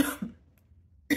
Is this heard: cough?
yes